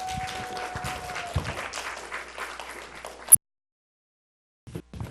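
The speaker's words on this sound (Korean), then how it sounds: "우리 큰 박수로 환영하겠습니다." A church gathering applauds to welcome a guest lecturer, a burst of clapping that thins out and stops abruptly about midway, followed by near silence and a faint sound at the end.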